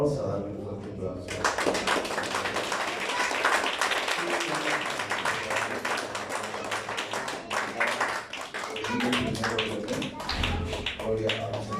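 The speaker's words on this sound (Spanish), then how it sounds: "Vamos a darle un fuerte aplauso." A church congregation gives a long burst of dense, steady applause, with many hands clapping together throughout, while voices are heard underneath.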